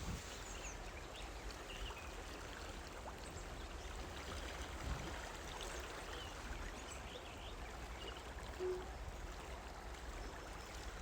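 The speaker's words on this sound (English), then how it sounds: "Interesting, the water here is bubbling and boiling." Rushing, bubbling water of the River Dyfi churning in small whirlpools, a steady broadband wash held close and constant with no voices.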